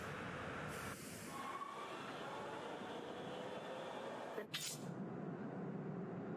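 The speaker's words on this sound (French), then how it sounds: "Une fois que vous êtes dans le métro" Subway train ride in Street Fighter 6, a continuous rumbling and hissing rail noise with a brief squeal or whoosh partway through, steady and moderately loud.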